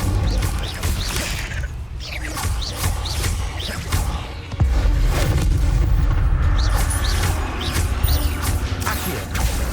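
Incendio fire spell cast during combat in Hogwarts Legacy on PS5, with loud booming blasts and crashing impacts over a dense, busy game soundscape.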